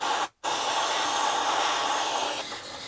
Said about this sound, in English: I think what I'm going to do is spray a little more brake clean